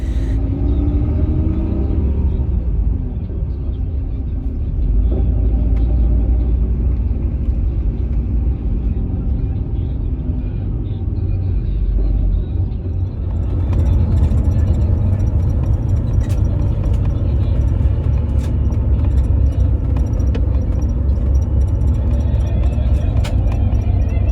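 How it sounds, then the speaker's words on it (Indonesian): Deep, steady engine rumble and road drone from a Semeru Trans Suite Class bus cruising the toll road between Yogyakarta and Jakarta, heard from inside, continuous and loud with light rattles later on. "Setelah menaikkan penumpang, bus kembali masuk tol lagi."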